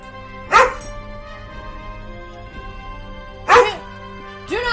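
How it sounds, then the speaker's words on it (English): A dog barks in three short, loud bursts spaced a few seconds apart, with a quieter steady background between them. "Bark at me! Do not! No! No bark!"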